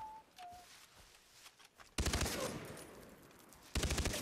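Loud gunfire from the Far Cry 3 video game comes in two sustained bursts of rapid automatic shots, preceded by quieter game ambience and faint distant shots.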